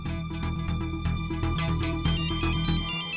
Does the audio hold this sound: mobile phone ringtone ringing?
yes